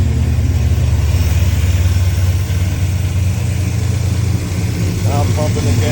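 Chevelle engine idling with a steady, loud low rumble throughout, voices talking over it near the end.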